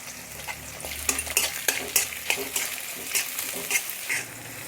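Two large sliced onions fry in hot oil with whole spices for a soybean pulao, giving a steady close sizzle broken by a run of sharp scraping stir clicks.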